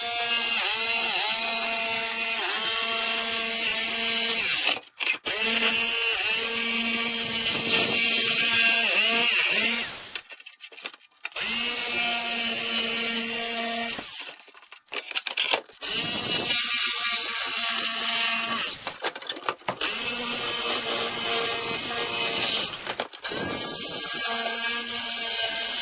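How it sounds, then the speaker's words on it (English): Jigsaw cutting and enlarging an opening for a headlight mount on a Regal GS, loud and steady buzzing in bursts of several seconds, broken by brief pauses between cuts, with no talking. "Since I got the jigsaw out, I'm going to go ahead and cut this opening a little bigger and hopefully a little more even."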